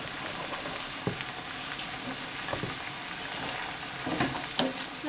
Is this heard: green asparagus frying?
yes